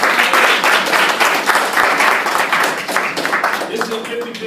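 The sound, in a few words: audience clapping for a student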